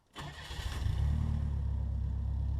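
An automatic-transmission Bugeye Sprite's engine cranks briefly on the starter, catches, and settles into a steady, close idle that continues to the end without talk.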